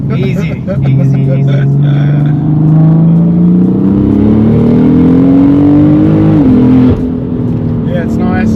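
A loud single-turbo BMW F80 M3 engine, about 700 hp, revs steadily, its pitch climbing over several seconds before dropping sharply, with people talking over it.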